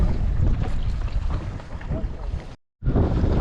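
Strong wind buffets the microphone out on the open Mediterranean from a fishing boat, a constant rough roar with brief gusty swells and a short cut near the end.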